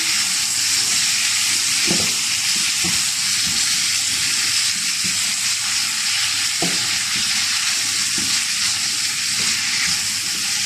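Pieces of butter sizzle loudly in a pan frying Alexandrian-style liver, a dense, continuous frying hiss with occasional soft knocks from stirring.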